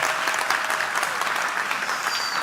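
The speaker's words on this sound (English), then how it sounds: "Let's hear a round of applause for everybody." A conference audience breaks into a brief round of applause, a dense and even patter of many hands at moderate level throughout, with no speech over it.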